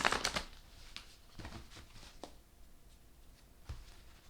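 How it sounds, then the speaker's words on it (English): A deck of tarot cards riffles and slaps in short bursts, a few quick shuffles close by with quieter handling between them; the deck is stiff to shuffle. "this deck is very hard to shuffle"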